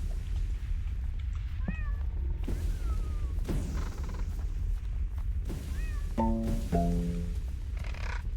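A cat meows several times, short rising cries standing above a constant loud low rumble, with a few brief tonal beeps from a game in between.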